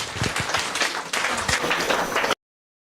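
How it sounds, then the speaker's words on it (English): An audience at a logistics and supply chain management conference applauds a speaker with steady, dense clapping that carries on evenly for about two seconds and then cuts off abruptly into silence. "Please give him a big round of applause."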